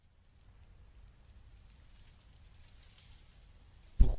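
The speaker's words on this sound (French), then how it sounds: "il pleut très fort dehors" Heavy rain falls outside at night as a faint, steady hiss with low rumble, ending in a sudden louder thump or gust in the final moments.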